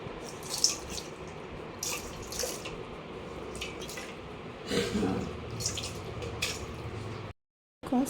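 Water poured over a deity idol during its ritual bath, soft splashing and trickling in uneven bursts close by, fairly quiet, with a brief dropout near the end and no speech.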